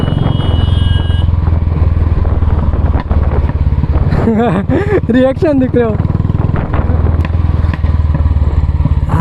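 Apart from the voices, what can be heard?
Royal Enfield Classic 350 motorcycle exhaust sound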